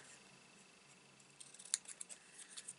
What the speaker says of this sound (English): Even the bits you're going to snip off here.